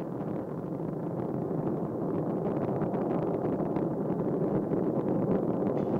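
Space Shuttle Discovery's engines roar during launch from Kennedy Space Center: a continuous, dense, broadband rumble with crackling texture that stays steady and loud throughout, with no voices.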